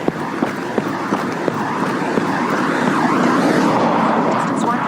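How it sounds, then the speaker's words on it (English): An air-cooled Volkswagen microbus engine drones past outdoors at an air show, a steady rumbling putter that swells slightly as it nears, with voices talking over it. "The unmistakable sound of an air-cooled VW microbus."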